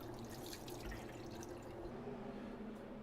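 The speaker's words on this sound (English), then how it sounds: "I always like to wash my hands in between." Hands washed under a running kitchen tap, a steady soft stream of water with faint splashing and dripping, quiet and continuous.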